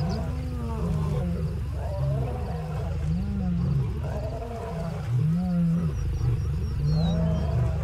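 Lion and hyena roar and growl while attacking a zebra in the Roblox game Wild Savanna, a continuous run of deep, rumbling roars rising and falling in repeated bursts at close range.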